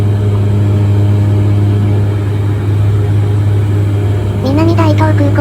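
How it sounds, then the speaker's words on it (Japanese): A small passenger plane's engines drone steady and loud inside the cabin just after takeoff on the short hop from Minamidaito to Kitadaito. A voice starts speaking near the end. "離陸しました。"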